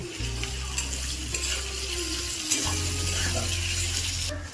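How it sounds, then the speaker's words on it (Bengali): Loud, continuous sizzle of sliced onions frying in oil until crisp, close up, with a low steady hum beneath and occasional stirring clinks. "এই পেঁয়াজটা আমি এখন বেরেস্তা করে নেব"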